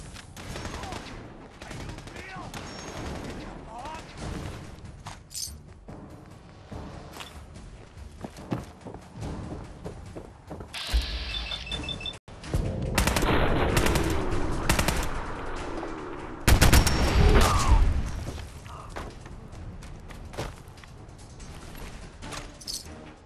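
Heavy automatic gunfire in the video game Fallout 4, Far Harbor, building from scattered shots into loud, sustained machine-gun bursts in the second half, with footsteps and mechanical clanks mixed in.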